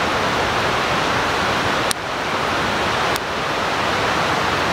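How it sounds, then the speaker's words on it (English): Steady rushing water noise of a mountain creek flowing nearby at a campsite in Valemount, BC, broad and constant with two faint brief clicks. "nice white noise of, you know, the crickets and moths and the creek"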